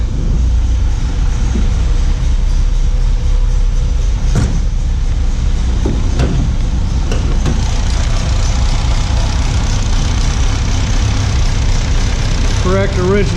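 A 1961 Mercedes-Benz 190SL engine running just after starting, steady low idle rumble, close and loud throughout, with a few sharp knocks and clicks over the top.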